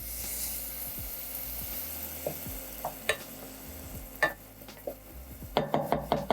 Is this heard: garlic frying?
yes